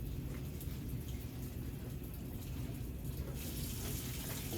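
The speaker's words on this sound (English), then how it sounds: "So I'm going to turn the water faucet handle on" Water runs from a faucet in a steady rushing hiss, growing noticeably louder and brighter toward the end as the flow picks up; no one speaks.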